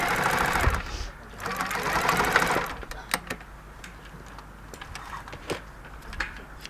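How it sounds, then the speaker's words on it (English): A sewing machine stitches the armhole seam of a men's shirt being refashioned into a camisole, with two steady whirring bursts near at hand followed by quieter handling clicks. "I can finish off stitching them around the armhole"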